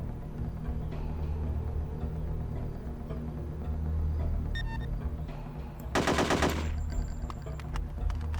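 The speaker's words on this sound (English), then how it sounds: "Guards have been alerted by the shooting" Gunfire in the video game Hitman: Codename 47, a short burst of rapid shots about two thirds of the way through, heard over a steady low game soundtrack with faint clicks earlier.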